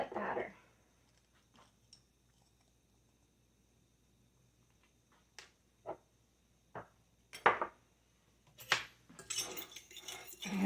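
Pepper, onion powder and garlic powder are mixed in a bowl: a spoon gives soft, scattered clinks and scrapes, sparse at first, then quicker, louder clattering toward the end.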